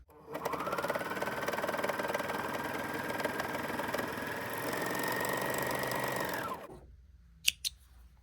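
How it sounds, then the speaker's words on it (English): A Bernina 1100DA serger runs a 4-thread overlock stitch in one steady, continuous mechanical whir for about six seconds, then stops, followed by two brief clicks. "And that is 4-thread overlock on the Bernina 1100DA"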